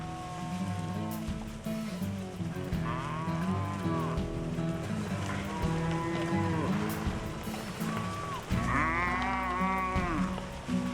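A huge herd of cattle on a vast ranch in the Paraguayan Chaco, many overlapping moos near and far, long drawn-out calls rising and falling continuously over a steady open-air background.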